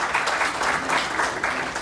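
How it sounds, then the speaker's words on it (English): A conference audience at the opening ceremony of an African philanthropy gathering gives a round of applause for a speaker, a dense, steady wash of many hands clapping at once, fairly close and even throughout. "Let's give Mr. Mabuto a round of applause."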